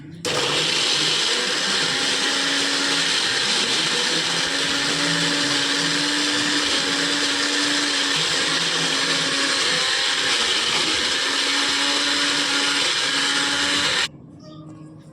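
Electric blender grinding flat beans without added water into a paste, a steady loud motor whir running for about fourteen seconds before cutting off abruptly.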